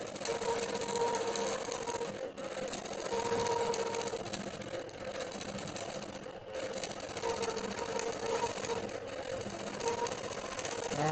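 A sewing machine stitching free-motion quilting runs steadily and close, a continuous whirring drone with brief dips in speed around a few seconds in, no talking over it.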